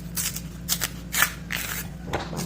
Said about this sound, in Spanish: Hacemos un corte aquí y vamos a empezar a pelar nuestro plátano.